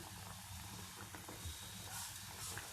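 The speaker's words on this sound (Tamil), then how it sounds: "ரெடி பண்ணி வச்சுருக்க மற்ற சோமாஸையும் இதே மாதிரி போட்டு ஃப்ரை பண்ணி எடுத்துக்கலாம்." Sweet somas deep-fry in hot oil, giving a soft, steady crackling sizzle with small bubbling pops throughout. It is faint and close, with no talking.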